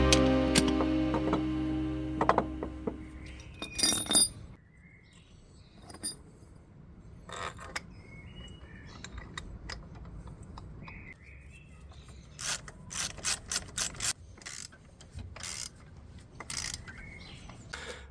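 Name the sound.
ratchet tightening subframe bolts on a 2005 Fiat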